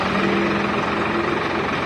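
A village tractor engine idles steadily nearby, a continuous low rumbling drone with a faint hum, running alone without talk.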